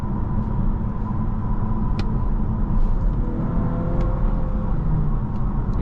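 A 2025 Volvo S90 B6 AWD Ultra sedan accelerates while driving, giving a steady low engine and road rumble with tire whir, heard from inside the cabin, with no speech.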